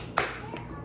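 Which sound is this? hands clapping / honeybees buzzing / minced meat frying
hands clapping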